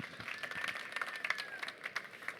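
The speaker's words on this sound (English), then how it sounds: "Big round of applause for Jan-Georg Rosenbaum from MacroCycle" Audience applause for a startup pitch presenter, a steady patter of many hands clapping at moderate distance, fairly quiet and even throughout.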